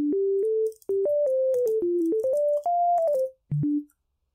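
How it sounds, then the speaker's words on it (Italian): A pure sine tone from the LB302 synthesizer in LMMS plays a short stepped melody of clean, hum-like sustained notes with brief gaps, alone and fairly loud. "Poi abbiamo quella sinusoidale."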